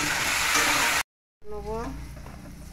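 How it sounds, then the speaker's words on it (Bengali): Pointed gourd (potol) sizzles loudly in hot oil in a pan. After a brief cut to silence the frying comes back softer, with a short voice over it. "পটলটা ভাজা বসিয়েছি।"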